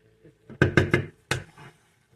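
Russet potatoes being stirred in a skillet, with a cluster of four close, hollow knocks of a utensil against the pan and a softer tap after them, then near silence.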